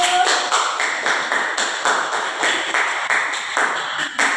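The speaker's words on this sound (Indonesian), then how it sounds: "Tepuk tangan untuk kelompok 1." Quick rhythmic clapping from a classroom of students applauding a group presentation, a series of even bursts at a steady beat.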